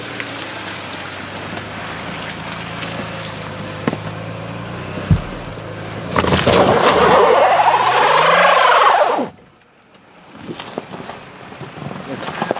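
A 2014 Toyota Highlander drives off-road through a muddy Colorado track, rumbling at first before a loud surge of engine, spinning tires and splashing mud, which then drops to near quiet.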